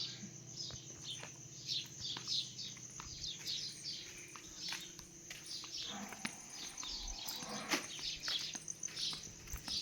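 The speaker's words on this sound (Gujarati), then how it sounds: "પંખી બોલે એ જ અવાજ આવે" Birds chirp and tweet continuously near a cattle shed, many small calls overlapping at moderate distance over a quiet rural background, with faint scattered knocks.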